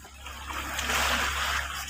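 A splash of someone jumping into the sea near tetrapods, a broad rushing burst of water rising and lingering for about a second over steady low background noise.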